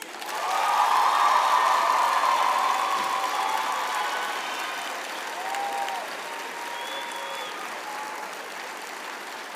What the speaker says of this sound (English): I would now like to ask our graduates to applaud their families, friends, and spouses for their support over the years